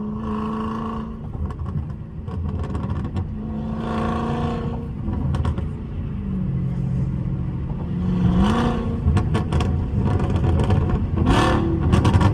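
Tuned Dodge SRT 392 with an aftermarket exhaust, heard from inside the car while driving: a steady engine drone with several revving climbs, broken by bursts of sharp crackling pops from the exhaust.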